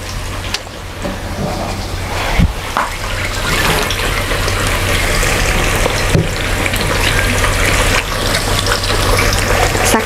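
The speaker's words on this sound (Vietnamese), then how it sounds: "Tàu hũ muối xả chiên." Tofu fries in hot oil with salt and lemongrass, giving a steady, loud, dense sizzle that runs the whole time, with occasional clatters from stirring.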